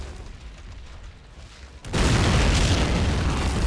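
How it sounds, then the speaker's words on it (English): An in-game mortar shell bursts in Men of War: Assault Squad, a sudden loud boom after a quieter stretch of battle rumble, followed by a sustained roaring wash of blast noise. "I guess my mortar missed."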